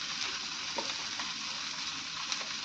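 Potatoes and chopped vegetables such as broccoli and cauliflower frying in a pan, with a steady close sizzle and a few soft stirring scrapes, no voices.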